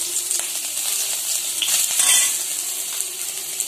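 Chopped onions fry in hot oil as the tempering for a lamb leg gravy, a steady bright sizzle close up with occasional stirring swells and no talking.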